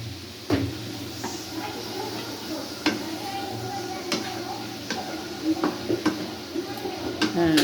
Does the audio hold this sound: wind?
no